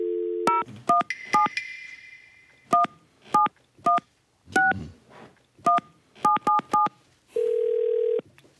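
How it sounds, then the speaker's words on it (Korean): A red telephone dials out, giving a sequence of clear touch-tone beeps in quick irregular groups, followed by a steady ringback tone at the end, with no talk. "제가 빨간 전화로 내부 전문가 한 분을 연결해 보도록"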